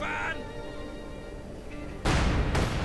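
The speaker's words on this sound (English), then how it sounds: "an incendiary barrage going down at the same time" Incendiary artillery barrage in a World War II strategy game: sudden loud broadband blasts arrive near the end, one sustained burst followed by a second hit, after a stretch of low rumbling battle ambience.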